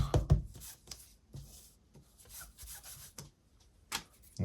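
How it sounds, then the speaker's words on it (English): An embossing buddy pad rubbed over cardstock to lift sticky marks makes soft, close scuffing strokes, several short rubs with brief pauses between them, quiet and with no talking. "So I've got myself a embossing buddy here. I'm just going to pop this over just to take off any sticky marks."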